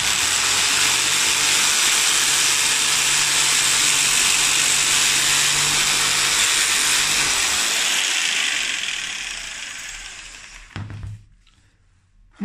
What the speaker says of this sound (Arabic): وانت بتقص الحديد بالمنشار